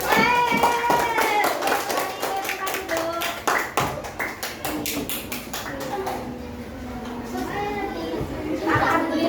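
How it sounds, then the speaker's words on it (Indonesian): Elementary schoolchildren applaud in a classroom after answering a reading lesson correctly, a burst of quick hand claps rising and settling, with children and a teacher talking over it. "Beri tepuk tangan untuk kita"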